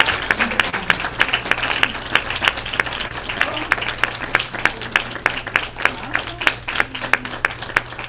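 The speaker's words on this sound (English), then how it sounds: "Give them a round of applause." Steady applause from a sizable crowd, many hands clapping briskly for several seconds at moderate volume, with a faint murmur of voices underneath.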